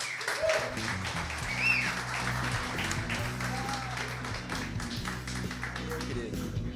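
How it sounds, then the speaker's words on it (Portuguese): Audience at a Full Comm 2023 evening talk breaks into broad applause to welcome a speaker, a dense steady patter of many hands clapping at moderate distance, with a few voices and whistles mixed in. "queria que vocês recebessem com uma salva de palmas bem grande"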